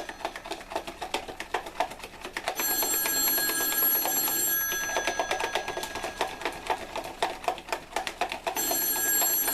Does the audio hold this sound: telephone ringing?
yes